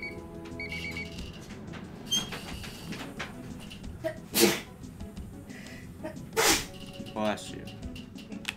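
A sudden sneeze bursts out over steady background electronic tones and beeps from the game Pilotwings 64, with a second sharp burst a couple of seconds later.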